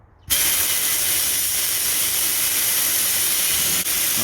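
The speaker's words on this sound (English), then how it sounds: "let's try out the sandblaster" Sandblaster cabinet blasting a rusty piece of plasma-cut steel: a loud, steady, broadband hiss bursts on abruptly and holds constant, with a brief dip near the end.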